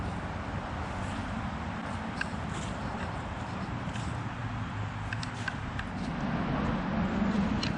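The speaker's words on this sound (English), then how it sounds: "Sorry about the road noise." Road traffic noise heard outside an RV, a steady low rumble of passing vehicles with faint distant clatter and occasional light knocks.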